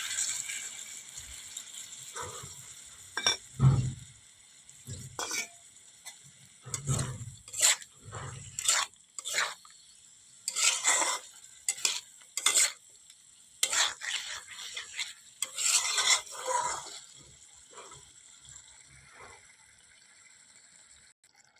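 Spice paste mixed with water goes into brinjal and potato in a pan, giving bursts of sizzling and repeated spoon-scraping stirs in an irregular rhythm, moderately close, with no talking.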